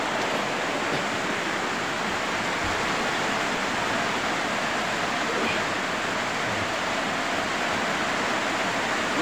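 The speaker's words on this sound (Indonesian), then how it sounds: "Di luar terjadi hujan ya teman-teman." Steady hiss of heavy rain pouring outside a motorcycle workshop where a Yamaha Mio J scooter is being repaired, a dense, constant wash of noise filling the whole stretch without a break.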